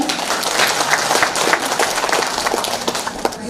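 Audience applause rings out at a Yue opera concert in New York as a cultural counselor is welcomed to the stage: dense, steady clapping from a full hall that holds at an even level throughout.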